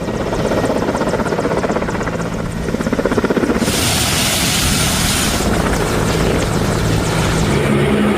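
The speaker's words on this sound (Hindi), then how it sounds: "इंडियन एयरफोर्स के विमान देख रहे हैं आप" An Indian Air Force aircraft drones loud and steady at close range, its engine and rotor noise pulsing continuously throughout with no voices.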